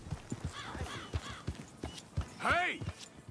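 Horse hooves clip-clop in Red Dead Redemption 2, a steady run of hollow, close thuds, joined by a short whinny partway through, as people talk over them.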